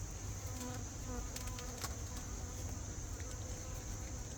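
Carniolan-Italian mix honey bees from a nucleus package buzzing steadily during a hive inspection, a dense close drone with faint voices in the background.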